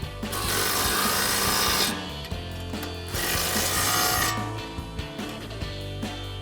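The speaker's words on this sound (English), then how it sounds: "We'll grab our impact and our 24mm socket and tighten those 2 down." Two bursts of an impact wrench with a 24mm socket tightening a pair of nuts on a Pedders eXtreme XA coil-over install on a 2015-2025 Mustang, each loud buzzing run lasting about two seconds with a short pause between.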